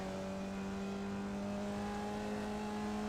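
A Formula Vee race car in iRacing at the New Hampshire roval, its engine holding a steady buzzing, tonal drone at full throttle, close and continuous with no talking.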